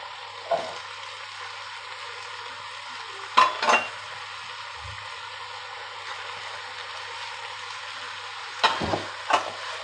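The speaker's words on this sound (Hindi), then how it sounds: "1 मिनट के लिए इनको भी फ्राई करेंगे।" Chicken and vegetables fry in a pan for chicken macaroni, with a steady soft sizzle throughout and a few brief scraping stirs and utensil clatters, quiet and close.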